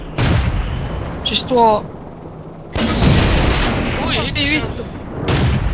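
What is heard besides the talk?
tank cannon fire and hits in World of Tanks video game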